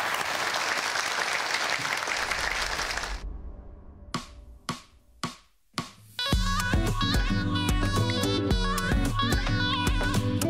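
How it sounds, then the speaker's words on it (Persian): Audience applause on a comedy stage show: a dense burst of clapping for about three seconds, followed by a few isolated sharp hits and then loud rhythmic music. "علی رضا رو تشویق کنم."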